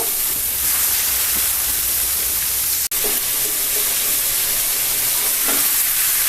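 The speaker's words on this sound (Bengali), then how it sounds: "আগে থেকে লবণ হলুদ মেখে রাখা মাংসগুলো দিয়ে দিব হালকা ব্রাউন কালার করে ভেজে নেব" Turmeric- and salt-rubbed chicken pieces fry in a pan toward light browning, a steady broadband sizzle with faint stirring clicks and a brief dropout partway through; no one speaks.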